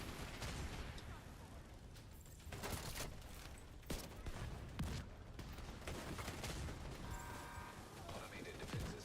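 Gunfire from The Division 2 video game crackles in dense bursts and rapid volleys, with sharp overlapping shots and heavier impacts layered over a busy combat din.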